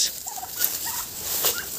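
Turkeys on a farmyard being shooed out for a walk give short gobbling calls and a few clucks, close by, over a steady hiss of outdoor background noise.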